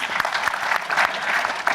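Steady audience applause, many hands clapping densely and continuously throughout, with a few louder claps standing out.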